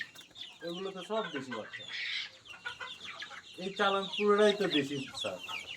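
Desi chicken chicks and hens on an integrated farm cluck and chirp in quick, overlapping calls throughout, fairly close, with a brief hiss partway through.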